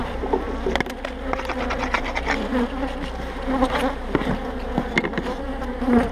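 Dense, agitated buzzing from a disturbed honeybee hive during a spring inspection, a steady close swarm drone with individual bees zipping past the microphone throughout.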